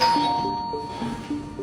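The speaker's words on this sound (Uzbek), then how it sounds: "to'satdan eshik negadir yana jiringladi." A doorbell rings with sustained tonal chimes over a low background hum, moderately loud and close, with no voices.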